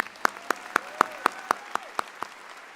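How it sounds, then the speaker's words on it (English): Applause at a college graduation ceremony, here a slow, even series of about ten sharp single claps spaced roughly a quarter second apart, fairly close against a quiet background. "let's give them a round of applause"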